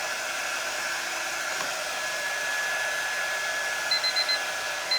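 A timer alarm beeps in short repeated pips near the end, faint under a steady loud blowing hum, with no talking.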